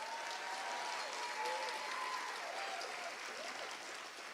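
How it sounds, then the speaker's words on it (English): Applause from an audience at a San Antonio College community event honoring Dr. Eric Castillo, a steady, fairly faint wash of clapping that continues evenly throughout without a clear peak or ending. "let's give Dr. Eric Castillo a round of applause"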